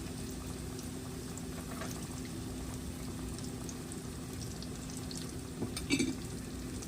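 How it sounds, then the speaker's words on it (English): Plantain slices frying in hot oil, a steady close bubbling sizzle that runs throughout, with a brief clatter near the end. "We're going to fry the plantains first."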